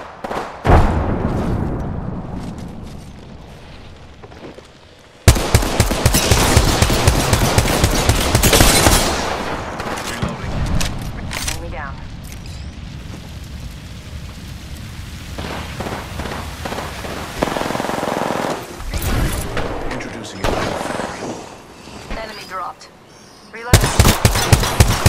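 Video game combat gunfire rattles in loud bursts and sustained automatic volleys, with pauses between exchanges and occasional voices mixed in.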